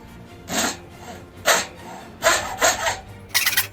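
Hand saw cutting the last piece of wood for a Thor hammer handle, with short close rasping strokes in uneven bursts, each stroke rough and scratchy, and no talking.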